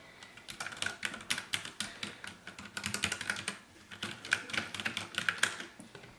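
Rapid, uneven clacking of key presses on a Ducky One 2 Mini RGB mechanical keyboard, close and steady throughout with brief pauses between bursts.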